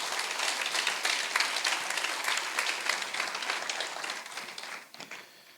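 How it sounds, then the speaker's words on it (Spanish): A church congregation claps for the Lord during a Christmas sermon, a full, steady burst of many hands at moderate volume that fades out toward the end. "Si ese aplauso para el Señor, déselo más fuerte, por favor."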